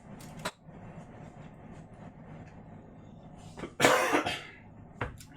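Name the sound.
cough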